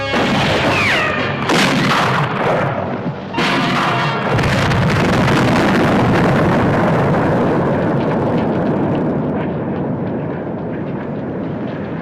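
A loud explosion tears through a stamp mill in a 1959 Western television drama, a heavy boom followed by sustained rumbling and crashing debris that slowly fades.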